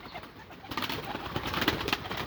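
A pigeon-type bird coos softly in repeated low murmuring calls, close and faint, with a slightly louder stretch in the middle and no talking.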